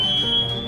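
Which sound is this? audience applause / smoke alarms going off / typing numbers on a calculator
smoke alarms going off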